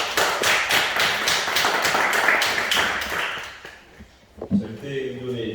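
A church congregation claps together for about three seconds, a fast, even run of loud, close claps that then fades out, followed by a thud and the start of speech.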